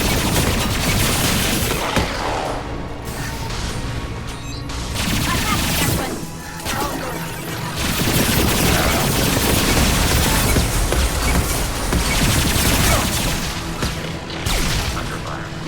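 Sustained gunfire and explosive booms from Mass Effect 2 on PC, a dense, loud barrage of shots and blasts running nearly continuously, briefly easing around the middle before resuming with heavy impacts.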